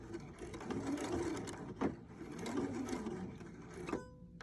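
A Husqvarna Viking sewing machine stitches fabric with a gathering foot, its close, rapid whirring chatter running in bursts with brief pauses for back stitching.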